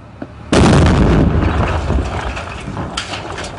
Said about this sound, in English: The Marines leave the house and detonate the bomb.